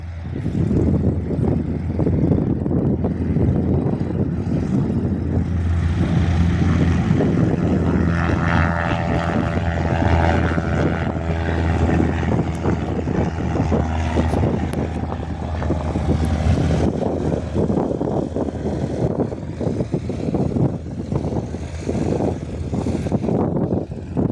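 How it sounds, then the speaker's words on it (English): A Cessna 172 light aircraft departs Jandakot airport on a windy day, its propeller engine droning loudly and steadily for the whole stretch, with tonal harmonics building in the middle before easing, no talk over it. "Cessna C172 departing Jandakot."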